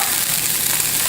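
Stock or broth poured into a hot pan after sautéed shallots, giving a loud, steady hiss and sizzle that holds evenly throughout, close up with no voices.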